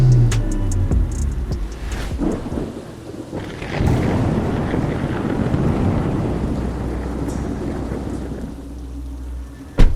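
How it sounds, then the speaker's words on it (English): Heavy rain pours steadily while deep thunder rumbles and rolls, with a loud crack near the start and a sharp burst at the very end. "It was raining out heavily"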